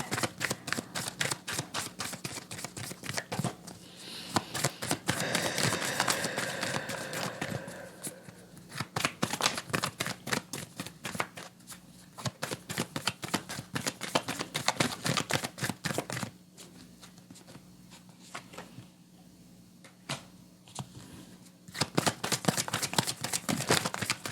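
Tarot cards are shuffled by hand in a long run of rapid, crisp riffling clicks and flutters, close and steady for over twenty seconds with a few brief lulls, over a quiet room hum and no talking.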